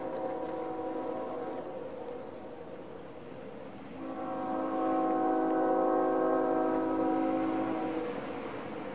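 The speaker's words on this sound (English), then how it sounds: "but a freight train's coming." A CSX freight train approaches in the distance, with a steady low rumble and a sustained multi-tone horn that grows louder for several seconds before easing off.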